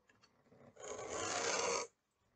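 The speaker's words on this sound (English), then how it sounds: "the sound of the knife going through the leather will change as you get through to the cutting mat underneath" A knife draws through leather toward a cutting mat in one steady, rasping stroke lasting about a second, close and quiet, with faint scratching just before it.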